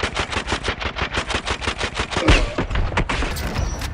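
Sustained, rapid automatic gunfire in a first-person shooter video game, a dense fusillade of regular bursts with a heavy boom near the middle, loud and close, continuing to the end.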